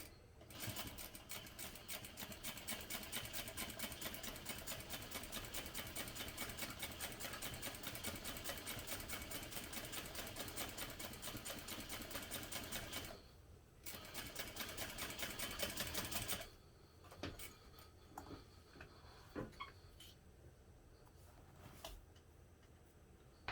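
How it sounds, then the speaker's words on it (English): A sewing machine top stitches fabric through an accent stripe and seam allowance, running steadily for a long stretch, then pausing and restarting in short bursts. "now I'm going to top stitch through the accent stripe and the seam allowance using an 1/8 inch seam"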